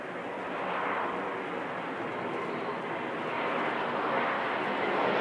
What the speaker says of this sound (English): Southwest Airlines are flying by to say hi